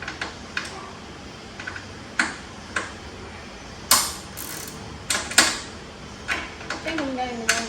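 Someone tightens a bolt with a ratchet while working on an LS-swapped S10 truck, giving close, irregular metallic clicks and pings with short pauses between them. Faint voices can be heard in the background.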